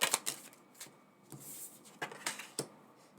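Tarot cards riffle and snap in quick, close bursts of shuffling, a few crisp slaps spaced across a quiet room.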